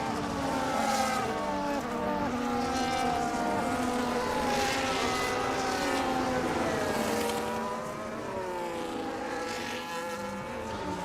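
Racing cars in an F1 video game at a Japan round circle behind the safety car, a steady layered whine of several engines rising and falling in pitch as they pass, continuous and fairly loud with no talking.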